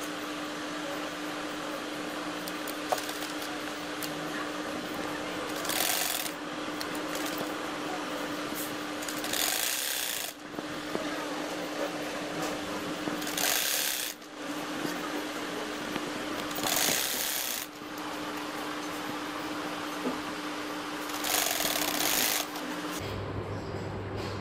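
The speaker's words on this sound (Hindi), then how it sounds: "चलिए अब पाइपिंग लगाते हैं।" A sewing machine stitches piping onto a poncha in a series of bursts of mechanical whirring, each a few seconds long, separated by quieter pauses under a steady low hum, ending with a short clunk.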